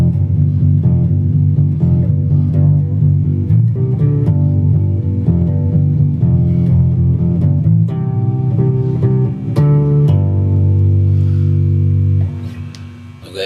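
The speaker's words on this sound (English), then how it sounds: "one of the main uses for me for the Line 6 M5, and that's the bass emulation." Electric guitar run through a Line 6 M5 multi-effects pedal set to bass emulation, giving deep, thick low notes in a continuous funky line, loud and up close, ending with a brief drop and a scrape.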